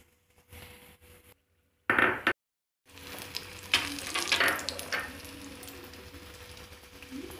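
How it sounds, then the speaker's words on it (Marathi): Vegetables coated in flour paste frying in hot oil, a close steady sizzle and bubbling hiss that swells as pieces go into the pan after a brief quiet start. "तेल गरम झालेलं आहे, हे तळून घ्यायचं."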